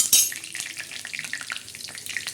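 Curry leaves hit hot oil for a tempering in a bitter gourd curry: a sudden loud hiss at the start, then dense close crackling and spitting that continues unevenly without any talk.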